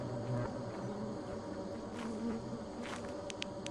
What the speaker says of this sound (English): Oh, there's bees in front of us.